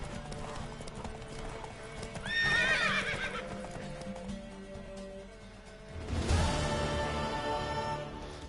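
In the video game The Witcher 3, a horse whinnies loudly twice, with hooves clip-clopping throughout and music playing underneath.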